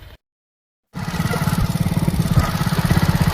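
A motorcycle engine runs steadily up close with a fast, throbbing rumble, starting after a brief silence.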